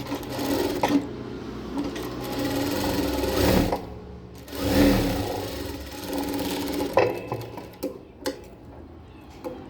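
A sewing machine stitches a saree or dress fabric, running in close, steady bursts of rapid mechanical chatter with short pauses between runs.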